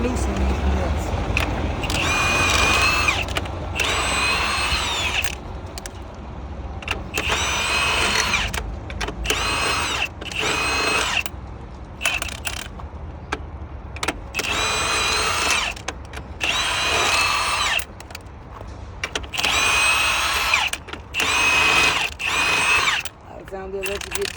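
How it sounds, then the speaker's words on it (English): Power drill or impact tool loosening nuts while undecking, whirring in repeated bursts with short pauses, close and fairly loud, with someone talking over much of it. "I want to loosen these nuts."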